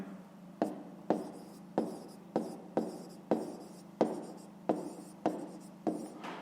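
A pen or pencil writes a math solution in a notebook, giving a close, quiet scratching in about ten short repeated strokes at an even pace, with no voice over it.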